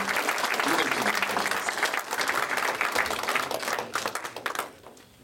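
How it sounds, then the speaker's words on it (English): Audience at a pitch event applauding the entrepreneurs: dense, steady clapping from many hands that holds for several seconds, then thins out and fades near the end. "a nice round of applause for the entrepreneurs"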